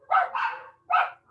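Dogs barking in a short burst: two quick barks close together, a pause, then a third, fairly loud and close, with no talking.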